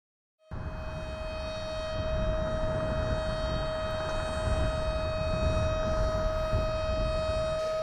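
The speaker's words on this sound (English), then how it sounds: "We do have a severe weather alerting system, sometimes referred to as tornado sirens." Outdoor tornado warning siren of a severe weather alerting system in Shelby Township sounds as a loud, steady wailing tone with hum-like harmonics, sustained alone for nearly eight seconds after a brief silence.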